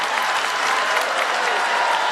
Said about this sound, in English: Let's clap for Joel, guys